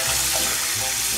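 Warm water from a hotel room sink tap pouring steadily, a continuous close hiss and splash with no talking.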